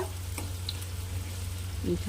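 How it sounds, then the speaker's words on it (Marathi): A large, finely chopped onion fries in hot oil over moderate heat, making a quiet, steady sizzle with faint stirring. "थोडंसं असं जाडसं तेल तापाला ठेवलं होतं तेल तापलं आणि असं एक मोठा कांदा बारीक चिरून घ्यायचा आहे त्यामध्ये ॲड करते मी आता"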